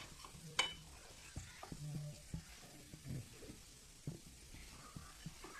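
Prawns fry in a pan with a steady sizzle and crackle, joined by scattered stirring and scraping knocks. The sound is close and continuous, with no talk over it.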